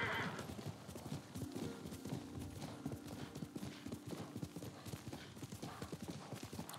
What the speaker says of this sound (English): Assassin man, he rides on a horse.